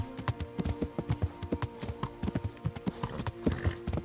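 Horse hooves gallop in a steady, fast rhythm of thudding beats, close and clear, with no voices over them, in the video game Kingdom Come: Deliverance.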